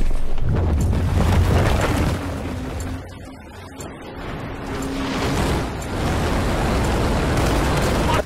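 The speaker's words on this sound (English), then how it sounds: "The building came down." A building crumbles in a video game battle, with a long rumbling roar of heavy debris and booms that dips briefly and then swells again, loud and sustained amid distant combat noise.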